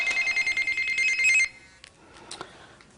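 A telephone bell rings in a rapid repeating trill for about a second and a half, then cuts off, leaving a quiet room with a few faint shuffles.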